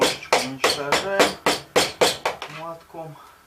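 A hammer drives down the wire coil on a homemade well filter. Eleven sharp metallic blows land close and loud in a steady rhythm, each leaving a brief ringing tone, with no talking.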